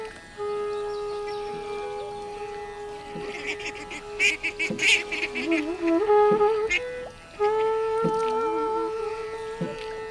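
Ducks on a riverbank in the morning, a series of honking quacks and calls at moderate distance over a soft outdoor background, bunched in the middle of the stretch.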